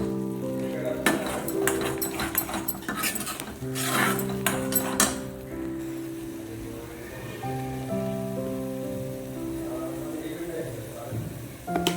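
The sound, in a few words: spices being stirred and fried in a pan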